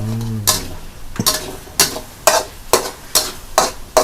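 A pan of Thai holy-basil frog stir-fry with dried chilies and kaffir lime leaves takes a splash of plain water, then bursts of loud sizzling and scraping stirs repeat about twice a second, close and clear.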